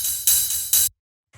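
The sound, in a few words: pitched-up ride cymbal sample in a techno track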